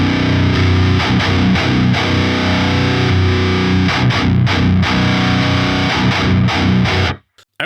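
Electric guitar with signature Fishman pickups plays heavy distorted riffs through an amp, loud and close with rhythmic chugging and brief stops, ending abruptly.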